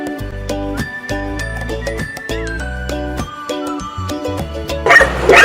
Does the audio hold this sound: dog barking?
yes